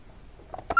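Alarm keypad on a Vista-20P security panel as *99 is entered to exit programming: a few short beeps near the end, sharp and close after a quiet stretch.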